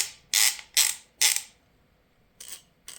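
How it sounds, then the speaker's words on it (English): A Hazet 1/2-inch ratchet's gear mechanism gives several sharp, bright clicking bursts in quick succession, then two quieter clicks after a pause, close and isolated. "The gear mechanism on Hazet are a bit noisy but also smooth"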